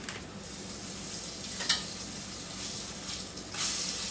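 Buttermilk-dipped, floured zucchini slices frying in a skillet of hot grease, a steady close sizzle with a sharp crackling burst partway through and another flare near the end, with no one talking.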